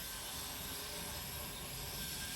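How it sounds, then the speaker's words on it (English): An airplane flies overhead outdoors at night, a steady, faint broadband roar that holds evenly throughout with no voices. "There's a plane."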